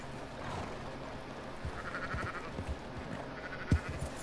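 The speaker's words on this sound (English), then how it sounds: "are these sheep? Yes, they are." Sheep bleat a few times against a quiet outdoor background, with one sharp, louder bleat near the end.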